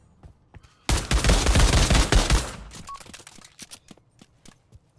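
In Pavlov WWII gameplay, a loud sustained burst of rapid gunfire lasts about a second and a half, followed by scattered faint clicks and taps.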